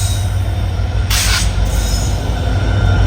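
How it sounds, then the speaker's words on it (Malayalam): A Jan Shatabdi Express hauled by a diesel locomotive arrives at a station, its wheels squealing on the rails in a loud, steady rumble with a brief sharp screech, close to the listener and with no talk. "ഇതേ പോകാനുള്ള ജനശതാബ്ദി എക്സ്പ്രസ് വന്നിരിക്കുകയാണ്. ഡീസൽ ലോക്കോമോട്ടീവാണ്."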